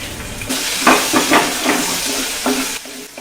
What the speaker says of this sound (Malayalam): ഈ എണ്ണയിലോട്ട് ആദ്യം വെളുത്തുള്ളി, പച്ചമുളക്